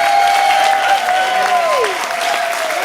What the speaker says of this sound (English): Y'all come on, clap it up